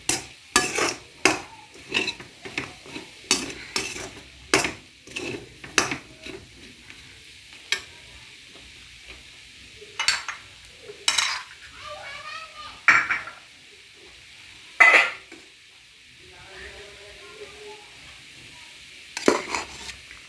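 A metal utensil stirs fried rice ingredients in a pan, giving sharp scraping clatters in quick bursts, then sparser knocks between stretches of quiet sizzle.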